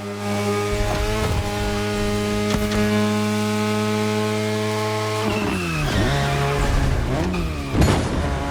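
Mazda RX-7 Turbo 2, second-generation, in the racing game The Crew Motorfest, its engine droning steadily at close range, then revving up and down through shifts toward the end.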